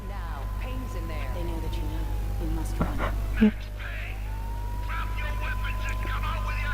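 A police siren wails through a tense scene in the video game Max Payne 2, its long gliding tone rising and falling steadily over a low droning background, with brief clicks and short sounds scattered across it.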